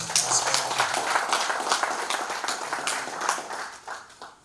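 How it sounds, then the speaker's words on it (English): Audience at a government ministry's sector retreat in Nigeria gives a sustained round of applause, dense clapping that holds steady for several seconds before tapering slightly at the end, with no talk over it. "In fact, they deserve a big round of applause."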